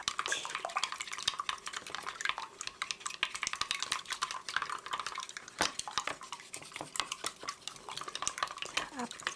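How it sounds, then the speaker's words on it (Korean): A utensil stirs beaten egg yolks back and forth in a bowl, for egg rolls with green onion, making a steady run of quick, light clinks and scrapes against the bowl with soft wet sloshing. The sound is close and fairly quiet, with no talk. "앞뒤로 저어주세요."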